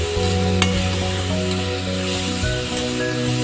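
Finely chopped onions with tomatoes sizzle and crackle steadily in a hot pan for drumstick kosthu, close up, with occasional stirring scrapes over the constant frying hiss.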